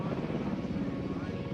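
A military helicopter coming in to land for a casualty evacuation in a tight Baghdad street lined with power lines, its rotor and engine a loud, steady, close drone with no pauses.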